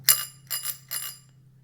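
A bicycle bell mounted on a child's bike rings three times in a steady rhythm, close and clear with a short metallic ring after each strike, no talk over it.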